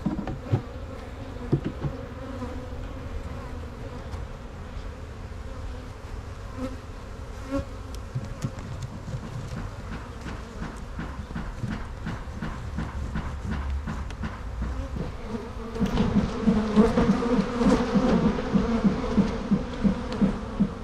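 Honeybees buzzing around an open hive, a continuous droning hum with many overlapping wingbeats that swells louder toward the end.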